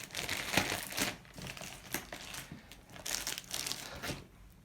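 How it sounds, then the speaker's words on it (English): Plastic wrapping is crinkled and torn off a C64 Maxi replica computer box, with close, uneven bursts of crackling that come and go over a few seconds. "I'll just go ahead and unwrap this thing"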